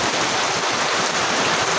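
Heavy downpour in a Bangladeshi village during a thunderstorm, a loud, dense, unbroken roar of rain pounding surfaces close by, with no voices.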